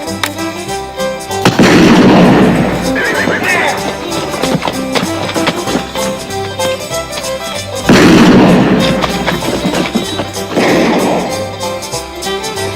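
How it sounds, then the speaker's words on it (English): Gunfire rings out in a western film scene on a cattle trail, two loud echoing shots several seconds apart, each followed by a rolling reverberant boom over a music-like background. "There's somebody shooting."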